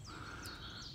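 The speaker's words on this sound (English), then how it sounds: "There's a raven croaking somewhere." A single raven croak sounds in a forest, a brief harsh call that is faint and distant against low background rumble.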